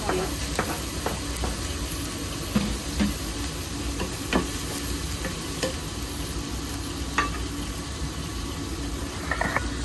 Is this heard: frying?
yes